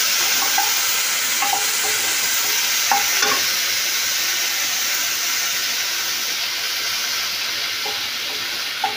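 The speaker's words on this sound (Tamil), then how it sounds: "இந்த பக்கம் நான் மசாலா வறுக்க போகிறேன்." Masala spices frying and being stirred in a pan for a Tamil home lunch of pumpkin sambar and potato fry, a steady close sizzle and hiss with a few light scrapes of the stirring utensil.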